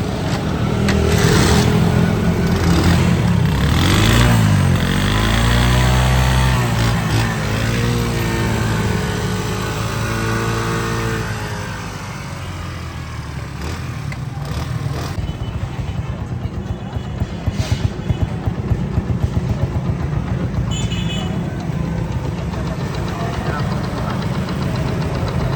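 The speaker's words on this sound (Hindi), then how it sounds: "अभी मैं आपको होंडा CD70 2027 मॉडल का इंजन का साउंड और सिलेंसर का साउंड जो है वो भी टेस्ट करवा देता हूँ" A Honda CD70 2027 model motorcycle engine runs with its silencer, rising through a few throttle blips, then settling to a steady, slightly rattling idle close by, with someone talking over parts of it.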